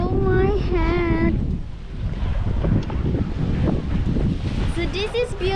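Steady wind gusting across a microphone on a beach at Koh Lanta, Thailand, a continuous broadband rush with someone talking over it at the start and again near the end.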